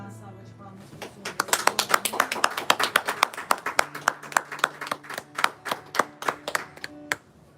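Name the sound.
congregation applause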